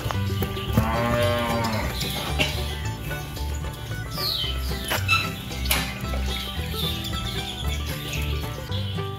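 Gyr dairy cattle moo over a busy, steady background din, with a strong tonal lowing call early on and further bovine calls mixed among other animal and ambient noise.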